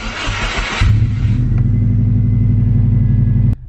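A Subaru Impreza engine cranks briefly, catches and settles into a loud, steady, echoing idle rumble close by, cutting off abruptly near the end.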